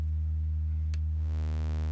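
A synth oscillator set to a sine wave holds a steady low tone with stacked harmonics, and frequency modulation adds buzzy saw-wave overtones that thicken the sound after a brief chirp; no one talks over it.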